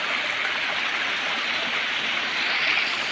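A waterfall and stream rush steadily through a hill forest, a loud, unbroken wash of flowing water close by with no pauses.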